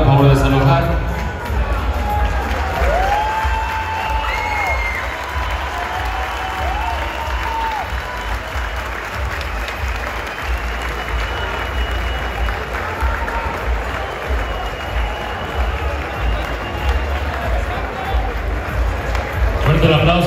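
Loud, sustained crowd applause and cheering fill a boxing arena for Moisés Fuentes after a knockout, a steady dense roar lasting the whole stretch, with an announcer's voice speaking over it.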